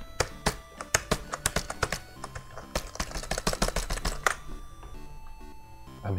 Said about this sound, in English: I'm hitting the keyboard